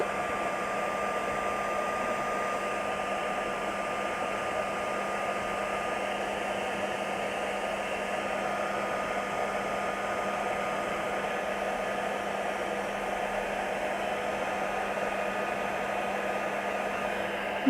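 A heat embossing tool blows steadily for the whole stretch, melting embossing powder on a stamped snowflake card background; a constant close, loud hot-air whir like a hair dryer, with no talk.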